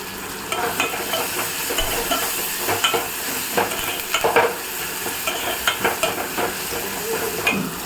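Onions and tomatoes fry in a pan for kara kuzhambu while a spoon stirs them. The sizzle is steady and close, broken by repeated scraping strokes, and no one speaks.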